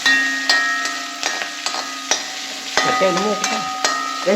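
Green chillies frying in masala in a pan, stirred with a wooden spoon: a steady close sizzle broken by sharp scraping strokes and light knocks against the pan, with no talking.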